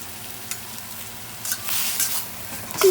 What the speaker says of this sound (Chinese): 继续翻炒30秒